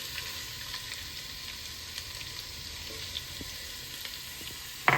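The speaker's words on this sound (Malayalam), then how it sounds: "പിന്നെ അതിനകത്തേക്ക് ഇതാ ഉള്ളി ഇടുന്നുണ്ട്." Onion sizzles steadily in hot coconut oil already spiced with cinnamon and cloves, a soft continuous frying hiss with a brief clatter near the end.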